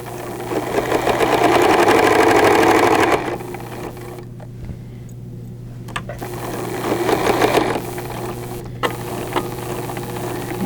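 A sewing machine runs steadily as it stitches fabric, a loud continuous whir lasting about three seconds, then stopping and starting again in shorter bursts over a constant low hum.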